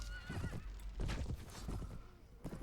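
Horses neighing and whinnying amid clip-clopping hooves during a medieval battle in Mount and Blade: Warband, several loud calls spread across a busy, continuous din with no talk.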